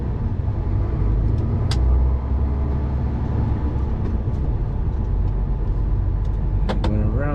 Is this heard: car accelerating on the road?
yes